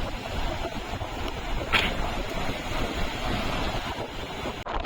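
Surf rolls in at Blue Flag Beach in Puri, a continuous broad wash of waves mixed with gusting wind buffeting the microphone.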